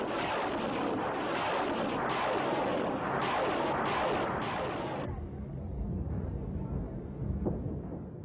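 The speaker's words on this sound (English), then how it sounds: "The multiple rocket launcher was another formidable artillery piece" Multiple rocket launcher artillery firing on a battlefield during the Iran-Iraq war, a loud continuous roar of salvos with repeated launch bursts over the first few seconds, then a rumbling tail.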